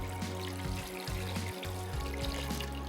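Water pours and trickles steadily in the kitchen while cooking Palestinian musakhan, drained off in a continuous close splashing stream with a low hum underneath.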